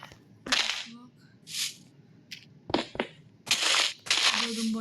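Grass blocks breaking in the Craft World block-building game, heard as several short crunchy bursts with gaps between them, fairly close and moderately loud, mixed with brief game effects.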